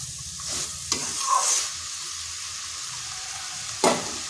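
Banana stem (thor) sizzles steadily as it is stir-fried in a pan with the lid lifted, with a couple of sharp metallic clanks from the lid or spoon breaking the constant frying hiss.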